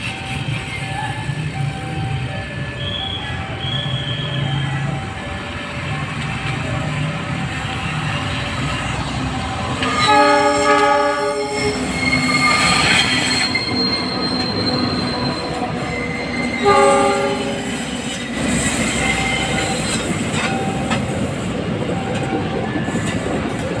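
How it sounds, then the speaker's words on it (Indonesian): Walar Express train passing at an Indonesian railway line, with sustained rumbling and wheel noise, tonal horn blasts sounding in the middle and again later, loud and close. "berikutnya Walar Express tuh oh, udah bunyi ya klaksonnya"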